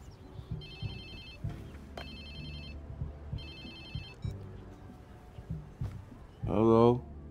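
A phone rings in the video game Watch Dogs 2, sounding three evenly spaced electronic ring bursts over low background ambience before a voice answers.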